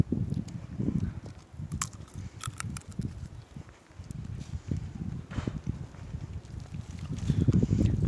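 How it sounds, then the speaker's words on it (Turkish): Gusty wind buffets the microphone outdoors near a ring road in uneven rumbling bursts, with faint scattered clicks and rustles. "Bugün rüzgar var arkadaşlar da."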